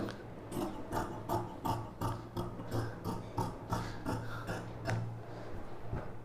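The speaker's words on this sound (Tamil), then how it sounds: "பேக் நெக் கட் பண்ணியாச்சு" Scissors snip through a cotton top to cut the back neckline, giving a steady run of close, rhythmic rasping cuts, about a dozen in quick succession with a low hum beneath.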